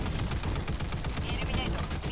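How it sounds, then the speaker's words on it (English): A Reprimand weapon fires in Helldivers 2 as a continuous barrage of loud, rapid booming shots that fill the whole stretch, with a voice talking underneath. "the reprimand hits a lot harder and is more of like a CQC weapon"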